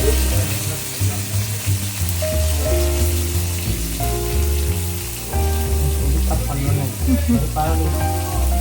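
Onions dropped into hot oil already tempered with fennel seeds and curry leaves, a loud dense sizzle and crackle that carries on steadily, with a faint tonal hum running underneath.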